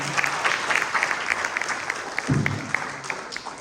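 An audience claps loudly at a church Calvary night passion play about the crucifixion of Jesus, a dense, steady burst of applause lasting a few seconds with a low thump near the end.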